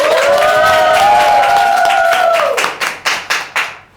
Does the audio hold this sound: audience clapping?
yes